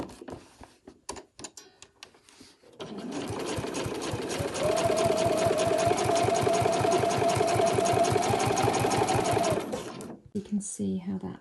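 A sewing machine fitted with a zipper foot runs a long steady stitching burst along a zip, its rapid rhythmic clatter loud and close, framed by brief mechanical clicks and handling before and after.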